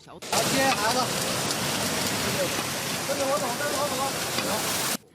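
Dense, heavy rain pours steadily over flooded Beijing streets, a loud continuous hiss of water hitting surfaces, with a few faint voices underneath.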